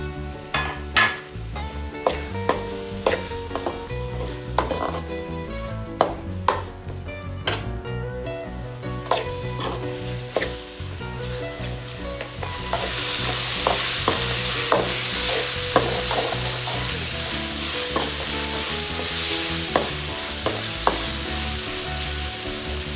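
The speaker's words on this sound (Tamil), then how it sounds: "ஸோ தக்காளி ஆட் பண்ணி நல்லா வதக்கணும்" Chopped tomatoes sauté in a pan for a drumstick chicken curry, with a steady sizzle under repeated clinks and scrapes of a spoon stirring against the metal, the frying hiss growing louder midway.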